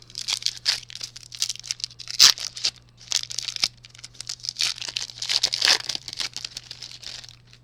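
Crinkling and tearing of a Pokemon Silver Tempest booster pack foil being ripped open close up, a run of sharp crackles and rips in uneven bursts, with no talking.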